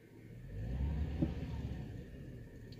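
A 2002 GMC Sierra truck engine runs quietly, a low, soft hum that swells slightly and then settles, with no talking over it.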